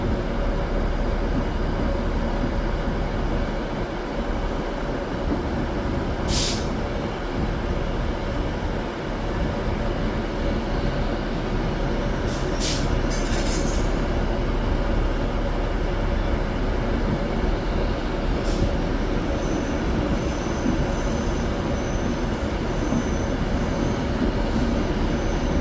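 A train on the 9M56 service runs from Edinburgh to London Euston via Birmingham, passing through Carlisle with a steady, continuous rumble and wheel noise throughout. It stays moderately loud, with a few brief squeals and clanks along the way.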